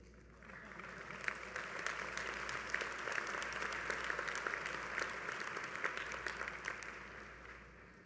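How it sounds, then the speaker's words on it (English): A commencement audience at an MBA graduation ceremony breaks into sustained applause, dense many-handed clapping swelling and holding across the hall, moderately distant with faint crowd murmur beneath. "I know that's worth applause."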